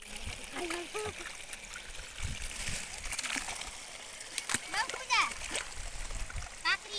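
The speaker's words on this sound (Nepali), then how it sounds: "काँक्रालाई हातले पानी हाल्नु लाग्छ" Hand-watering cucumber plants in a home vegetable garden, with scattered splashes and sloshing water in bursts, moderately close, with a voice and other talk heard intermittently over it.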